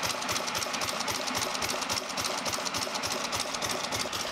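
A Fairbanks-Morse Model 118 hit-and-miss engine, about 118 cubic inches of displacement, runs steadily with a fast, even mechanical chugging and clatter that stays loud and close throughout, with no talking.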